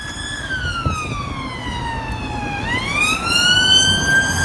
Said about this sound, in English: it's sirens, it's police